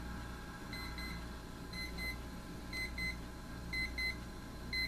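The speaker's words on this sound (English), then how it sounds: "It ascends and gets louder as it goes" A Westclox 47309 quartz analog alarm clock beeping in repeated short double-beep bursts, about once per second, growing slightly louder over time with no talk.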